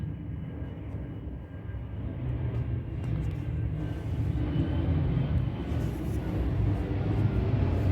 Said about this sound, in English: There's so many airplanes that like to fly across.